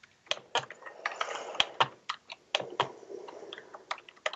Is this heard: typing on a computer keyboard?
yes